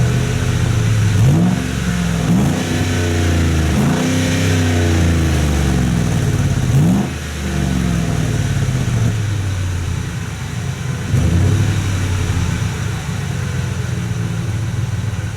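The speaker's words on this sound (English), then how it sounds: "I'm gonna go ahead and just rev it." A 2007 Ford F150 pickup with an aftermarket exhaust, its engine revved repeatedly from idle in a series of rising and falling pulls, loud and close throughout with no talk.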